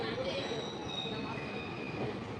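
A passenger train rolls into New Farakka station in Murshidabad district, with a steady rumble and rail noise, faint wheel squeal and a thin high whine running through the whole stretch.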